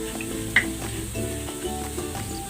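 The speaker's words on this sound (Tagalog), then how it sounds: "Maglalagay ako ng cooking oil. Ayan, nagisa na ako ng bawang." Garlic sautéing in hot cooking oil, a close, continuous sizzle with faint crackles and a light utensil tap near the start.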